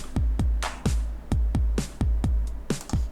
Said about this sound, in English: Just for comparison, these are the original drums.